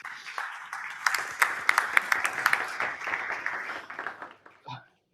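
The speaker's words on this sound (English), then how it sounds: "A round of applause" Audience applause at a startup ecosystem event welcoming a speaker to the stage, uneven clapping with several sharp claps near the middle, tapering off toward the end as a voice briefly begins.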